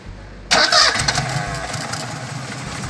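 A car engine with a blown head gasket cranks and catches after a half-second pause. It starts with a loud burst, then settles into a rough, uneven idle close to the microphone.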